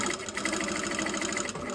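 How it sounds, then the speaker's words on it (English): A sewing machine stitches an invisible zipper in a fast, steady mechanical whir, close and loud, with a brief dip near the end and no talking. "that was my sewing machine talking to me"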